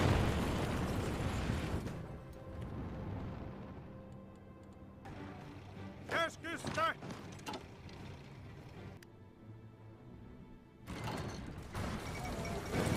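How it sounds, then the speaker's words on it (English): Tactical nukes go off in the strategy game Hearts of Iron 4 as booming bursts at the start and near the end, with game music and clicking interface sounds in between. "Let's drop some tactical nukes to help our effort."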